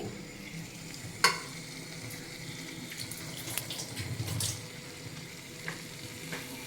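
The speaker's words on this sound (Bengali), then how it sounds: "আর আমি এদিকে স্যুপের জন্য জল ফুটতে দিয়েছি।" Water heating in a pot for soup, with minced meat to be added, in a home kitchen; a low steady rumble of bubbling runs throughout, crossed by clinks of utensils, a sharp tap, and a brief rush near the middle.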